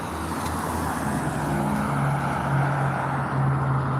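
Street traffic of loud trucks, motorcycles and cars with noisy exhaust kits, a steady low engine rumble with heavier vehicles rolling past.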